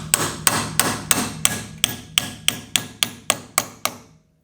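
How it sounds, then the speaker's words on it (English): A hammer strikes a metal punch to drive a brake pin home on an AP Racing brake upgrade for an Ultima RS, eleven sharp ringing blows at a steady rhythm, close and loud, ending in quiet. "now we're going to use a punch and a hammer"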